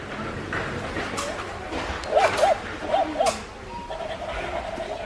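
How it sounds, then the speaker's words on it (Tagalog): A dog gives a few short yelps and whimpers in quick succession, moderately close, over steady background noise in a home. "Here, the hound."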